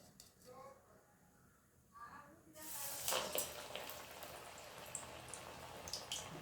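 Banana flower vadas drop into hot oil after a short quiet start and then sizzle steadily, a close, moderately loud hiss with faint crackles. A voice speaks briefly at the beginning.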